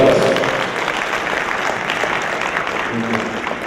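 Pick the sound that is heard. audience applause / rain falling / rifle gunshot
audience applause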